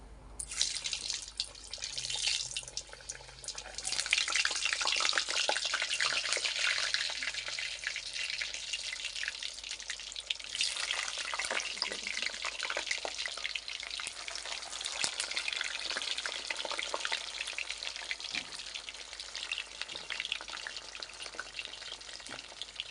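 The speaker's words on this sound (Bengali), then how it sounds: "আলু ভাজা চলছে" Potato pieces frying in hot oil for biryani, a dense continuous sizzle and crackle close by that holds steady throughout with occasional stirring scrapes and no talking.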